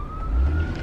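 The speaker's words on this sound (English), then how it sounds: "And there's a siren." A siren wails in traffic during rush hour, its steady tone riding over the low rumble of nearby road noise.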